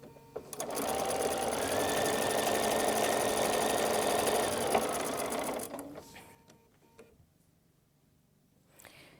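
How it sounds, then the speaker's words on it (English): A sewing machine chain piecing quilt block fabric runs in a steady, loud mechanical whir for about five seconds, then stops, leaving faint handling noises. "So I'm going to continue chain piecing until I get through those 2 stacks."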